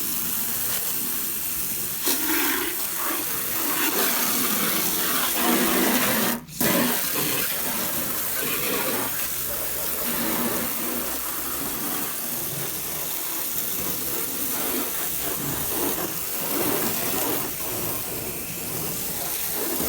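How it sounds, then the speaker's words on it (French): Running water rinses a car during a home wash, a loud steady hiss of spray with splashing that shifts in strength and one brief dropout, no speech. "Du coup je vais quand même rincer parce que sinon"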